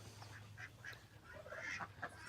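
Foster ducks quack and honk in short, scattered calls, fairly quiet and close, over a low steady background hum.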